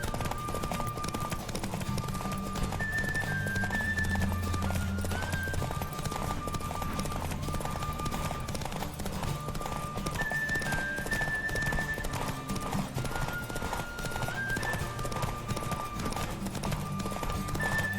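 Hooves clip-clop in a fast, steady galloping rhythm throughout a horse race in The Witcher 3: Wild Hunt, with a horse whinnying and a looping musical melody playing over it.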